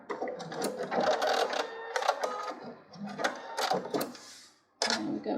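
Close sewing machine stitching a four-patch fabric coaster, running in short rapid bursts with brief pauses, including a reverse stitch to secure the seam.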